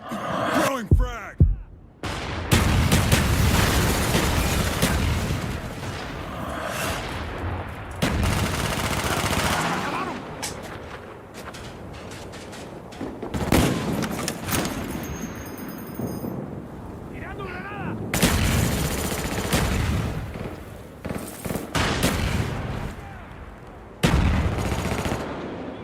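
A frag grenade blast and gunfire during a video game match: rough, booming explosive bursts and crackling shots recur throughout, loud and dense, with talk in the background.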